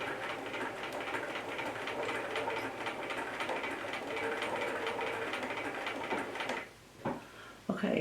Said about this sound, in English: I'm going to start stitching a straight stitch